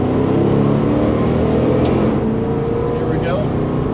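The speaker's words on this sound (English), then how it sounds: "Let's see if we can give the old Road Runner a little squeeze here." A 1970 Plymouth Road Runner with a 383 engine and 110 octane fuel pulls hard from inside the cabin, a loud continuous engine drone rising in pitch near the end of the run, with a voice over it.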